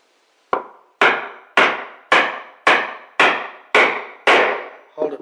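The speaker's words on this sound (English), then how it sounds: "You can hear the different sound the chisel makes when you get to the bottom of the routed hole." A chisel is chopped down into wood at a knife line while fitting veneered furniture doors, giving seven loud, evenly spaced sharp knocks with short ringing decays and a quieter tap at the end, with no talking.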